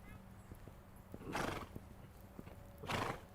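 A horse canters to a gallop during a riding lesson on a 4-3-2 line, its hoofbeats ticking in a steady rhythm close by, with two louder breathy snorts.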